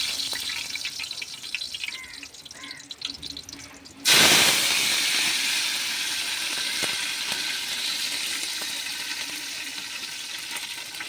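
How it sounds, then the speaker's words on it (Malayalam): Curry leaves hit hot oil already holding fenugreek and mustard seeds for a chicken curry, setting off a sudden loud sizzle that bursts in partway through and keeps crackling steadily after a quieter start. "കറിവേപ്പില ഇട്ട് കൊടുക്കാം."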